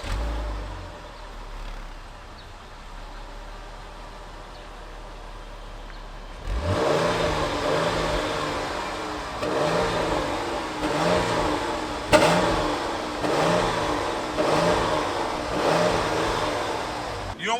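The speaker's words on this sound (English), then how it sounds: "let me let you guys hear the exhaust real quick" After several seconds of quiet idling, a 2021 Dodge Durango SXT Plus engine roars to life and revs repeatedly in deep, throaty bursts through the exhaust, loud and close.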